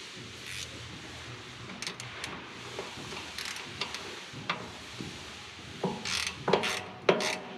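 A wrench working the small 7/16 bleeder screw on the fuel system of an ex-military Cat D7G dozer, giving a run of faint metallic ratcheting clicks and clanks, sparse at first and then several sharper close clicks near the end.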